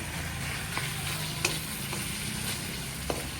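Steady sizzling of ground beef frying in a pan, with a few light clicks and scrapes of stirring.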